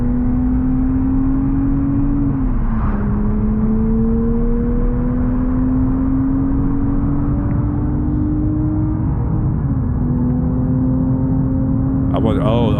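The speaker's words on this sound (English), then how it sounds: "Oh, look here, I got my Porsche GT3." A Porsche GT3 driving on a street, a loud continuous engine drone that rises slowly in pitch with a gear change near the start and another late on, close and steady throughout.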